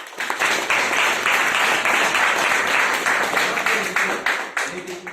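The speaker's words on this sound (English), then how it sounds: "A round of applause for you." Audience applause at a speakers forum, a steady wash of clapping sustained for several seconds that tapers slightly toward the end, with some voices mixed in.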